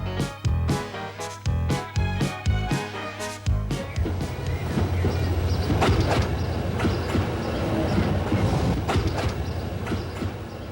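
A train runs along the rails with rhythmic clickety-clack from the wheels, first as sharp regular beats, then as a denser rumbling rush.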